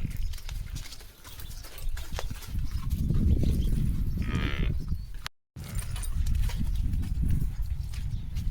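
Farm livestock being moved outdoors in rain and wind: shuffling hooves and rustling movement close by over a steady windy rush, with a brief higher tonal sound midway and no speech.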